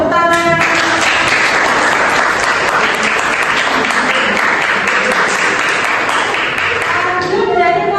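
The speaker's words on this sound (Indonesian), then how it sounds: "Ya, tepuk tangan." A classroom of students claps in sustained, loud applause for about eight seconds, with a few brief pings at the start.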